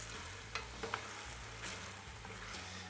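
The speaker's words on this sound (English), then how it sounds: "I'm gonna deglaze a little bit" A hot pan deglazed with dry white vermouth after cooking pork chops gives a soft steady sizzle with a few light clinks and stirring scrapes, fairly quiet and close.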